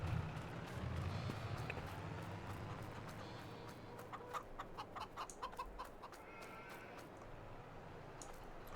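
Chickens cluck in a farm setting in the video game Farming Simulator 2022, with a run of quick, soft clucks and scratchy peeps over a low ambient hum.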